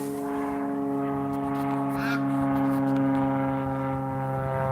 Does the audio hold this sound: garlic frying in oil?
no